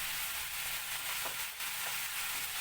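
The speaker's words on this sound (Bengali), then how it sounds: "এবার আমি এটাকে ভালো করে নেড়ে চেড়ে দিচ্ছি।" Mixed vegetables with ginger paste sizzle steadily in a hot pan as they are stirred, a close, continuous frying hiss with faint scraping of the utensil and no voices.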